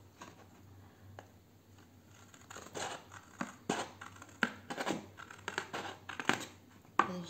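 Scissors snip through patterned paper for a handmade card, a close run of crisp irregular cuts that speed up into quick bursts, with no talking.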